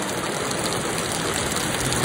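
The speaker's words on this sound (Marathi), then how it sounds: "आम्ही 1 सेकंड घरी पोहोचलो आणि पाऊस लागला जोरात काही." Heavy monsoon rain pours down in Rajapur in the Konkan region, a dense, steady roar of water close by that fills the whole stretch without a break and with no voices.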